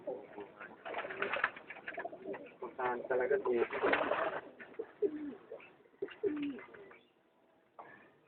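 Pigeons coo and call close by in a steady jumble of soft, throaty notes, with people talking over them at times.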